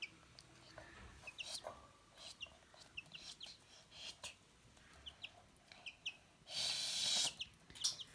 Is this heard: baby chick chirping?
yes